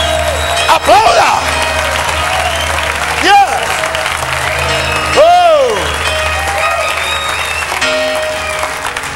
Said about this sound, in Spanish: Come on, aplauda, aplauda, aplauda, aplauda!